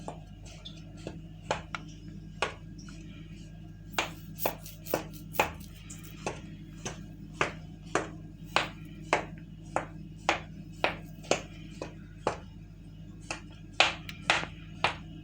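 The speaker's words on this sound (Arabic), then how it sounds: "دلوقتي انا هخرمها بس بالشوكه كده خرم بسيطه عشان اللبن يخش جواها" A fork pokes holes in a baked chocolate sponge cake, making a long series of sharp, evenly spaced taps against the pan, close and clear with no talking.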